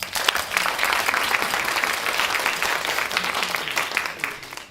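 An audience gives steady, sustained applause for an ensemble member being introduced at a concert, a full, even wash of clapping that holds for several seconds.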